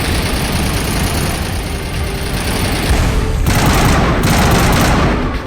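Rapid gunfire in Mass Effect 1, a loud continuous barrage of shots over a steady engine-like hum that briefly thickens and intensifies midway.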